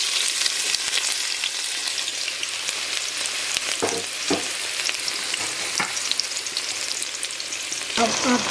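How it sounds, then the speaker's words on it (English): Chopped onions frying in hot oil for a broccoli and butter bean stew, a dense continuous close sizzle with occasional scraping stirs of a utensil in the pan, no voices. "I'm going to add my onions and it's oil"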